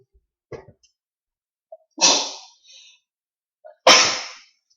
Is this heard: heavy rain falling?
no